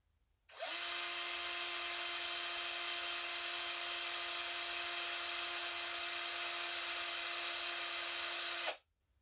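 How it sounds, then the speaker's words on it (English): A power drill twisting cord from a cord-making kit whines at a steady pitch for about eight seconds, starting and stopping abruptly, with nothing else audible. "if you're using a power drill, don't try to go too fast as you're just starting."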